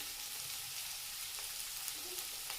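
Chopped potato sautéing in a pan for fenugreek (methi) bhaji: a soft, steady sizzle with faint crackles, heard alone and quiet throughout.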